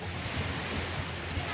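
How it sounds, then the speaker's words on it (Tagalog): Calm sea surf at a crowded beach washes in a steady broad hiss, mixed with wind buffeting the microphone, fairly quiet and continuous. "medyo kalmado pa rin yung dagat"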